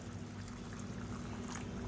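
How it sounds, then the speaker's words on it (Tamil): Hot water pours into a simmering biryani gravy, a faint, continuous splashing and bubbling wash with a low murmur beneath and no voices. "இந்த ஸ்டேஜில் தண்ணி சேர்த்துக்கலாம். நல்லா சூடான தண்ணியாக சேர்த்துக்கோங்க."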